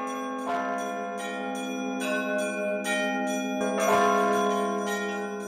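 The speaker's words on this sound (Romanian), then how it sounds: "după ce se trage slujba sau înainte unei slujbe, venim și tragem clopotele" Hand-rung church bells at a Lipovan Russian church in Manolea ring continuously in overlapping strokes, loud and sustained, with a steady drone beneath and no talk.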